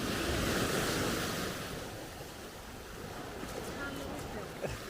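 Ocean waves washing onto Pattaya Beach on Koh Lipe, Thailand, a steady broadband surf roar that is loudest at the start and eases slightly, with wind buffeting the microphone and people talking nearby.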